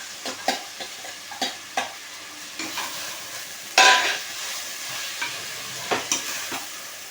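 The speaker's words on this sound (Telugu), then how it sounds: "ముందుగా మనం వేయించిన పన్నీర్ ముక్కలు కూడా యాడ్ చేసుకొని ఫ్రై చేసుకోవాలి." Fried paneer pieces sizzle in a pan for paneer biryani while a spoon stirs them, giving steady frying hiss under repeated scraping clicks and a louder sizzling burst midway.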